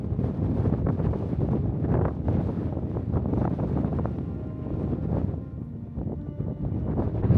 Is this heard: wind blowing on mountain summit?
yes